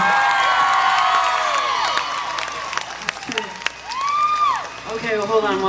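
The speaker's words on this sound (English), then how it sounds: "Give him a round of applause." Audience applause and cheering at the Tin Roof music venue in Nashville during an acoustic performance, mixed with sung or sustained guitar-like tones and voices over the clapping.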